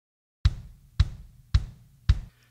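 Four evenly spaced kick drum hits, one per beat over a single measure, programmed in Logic Pro X; each is a punchy low thump with a short decay, heard alone against silence.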